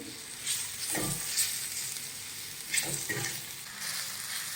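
Finely chopped tomato frying in a pan with a pinch of salt, a steady soft sizzle with brief louder crackles as it is stirred, no talk.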